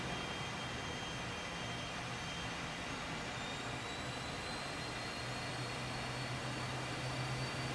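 The T-38A jet engine in Microsoft Flight Simulator 2024 holds a steady, broad rushing roar with a faint high whine and a low drone, even and unbroken throughout.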